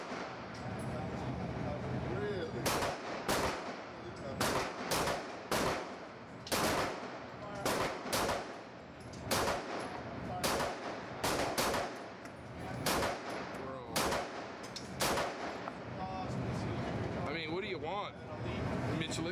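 Rapid rifle fire from a burnt bronze AR build with a pyramid trigger, many quick crisp shots in fast strings with brief pauses, heard under ongoing talk outdoors.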